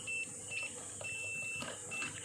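A continuity tester buzzer beeps in short bursts as it is touched to a door magnetic sensor, with several thin, steady beeps of uneven length and gaps over faint background noise.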